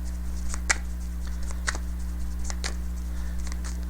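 Tarot cards being shuffled by hand, with soft riffling bursts and sharp slaps recurring about once a second, close up over a steady electrical hum.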